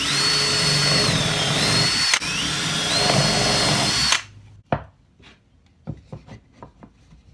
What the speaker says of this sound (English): Now we're going to drill and countersink 3 holes.